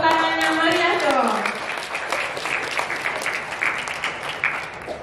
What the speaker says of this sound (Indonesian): Tepuk tangannya meriah dong.